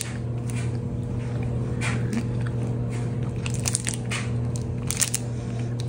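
Crisp bites and chewing on a MrBeast dark chocolate crisp bar, several sharp close crunches growing denser toward the end over a low steady background hum.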